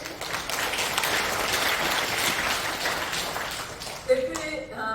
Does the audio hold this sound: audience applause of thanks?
yes